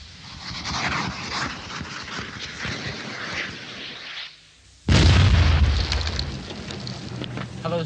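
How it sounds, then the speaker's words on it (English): A Viper rapid breaching device fired from an armoured engineering vehicle blasts a path through a minefield. Steady rumbling noise drops nearly silent, then a loud, deep explosion hits and rolls on with a long, heavy roar. "the Avery, fitted with a giant Viper rapid breaching device, explodes a safe path in a matter of minutes"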